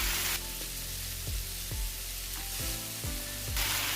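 Beef pieces browning in a hot pan for a stroganoff give off a steady, loud sizzle. Several softer bumps and scrapes come through as the pieces are flipped, and no one speaks.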